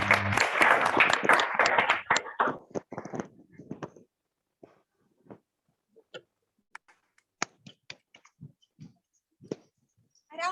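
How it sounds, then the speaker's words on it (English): An audience at an award ceremony applauds loudly for about two seconds, the clapping tapering off to scattered single claps and then near silence. "Give her a round of applause."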